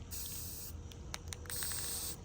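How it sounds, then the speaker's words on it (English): Short hissing bursts from a spray paint can outdoors in light wind, two longer sprays separated by a few quick puffs, close by and fairly quiet. "make sure your spray paint is coming out good"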